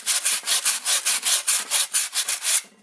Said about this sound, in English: And now, take some sandpaper